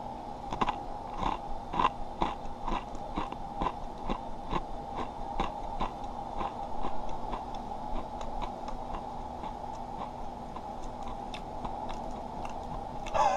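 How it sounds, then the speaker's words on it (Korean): A whole Misura veggie soy cracker being bitten and chewed up close, with steady rhythmic crunching ticks repeating throughout over a faint background hum, no talking. "통째로 한번 먹어보겠습니다."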